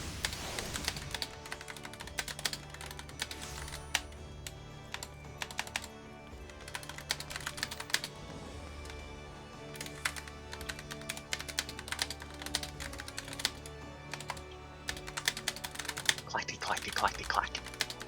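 Rapid clacky computer-keyboard typing, many crisp keystrokes in uneven bursts running the whole time, with game music and occasional talk underneath.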